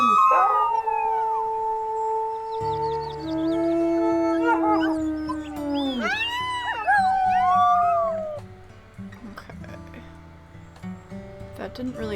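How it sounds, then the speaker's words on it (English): A game wolf in WolfQuest howls in long rising and falling wails, several overlapping howls answering one another, with a low steady music bed underneath and no talk. "We'll do a quick howl to"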